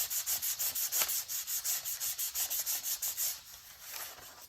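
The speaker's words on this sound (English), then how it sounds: "I'm just going to lightly sand the little marks." Perforated pinstripe pattern paper sanded lightly on its back side, a close, rhythmic back-and-forth rubbing with about twenty even strokes.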